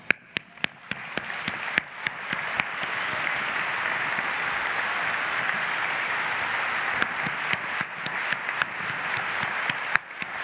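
A crowd of conference attendees applauds award finalists at a construction-industry keynote, with a steady wash of many hands clapping that swells and holds, individual sharp claps standing out at the start and end.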